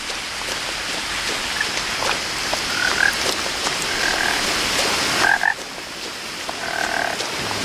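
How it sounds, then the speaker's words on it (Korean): A frog croaks in short repeated bursts at a moderate distance inside a video game, sounding over a steady patter of rain. "개구리 소리가 나는데"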